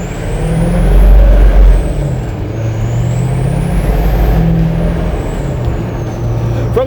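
A square-body truck with a 6.6 Duramax diesel and a KC Stage 1 turbo pulls hard, with a loud, close diesel roar and a high turbo whistle that rises and falls.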